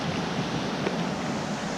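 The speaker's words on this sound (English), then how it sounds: "Started raining." Rain falls beside a wild trout stream, a dense steady hiss of drops blending with flowing water, even and close without pause.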